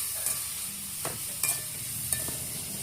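Eggplant sautéing in oil in a pan, with a steady low sizzle and a few sharp scraping stirs of a utensil against the pan, close and without talk.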